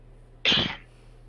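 A single sharp sneeze bursts out close by during a tabletop role-playing game session, brief and alone against a quiet room.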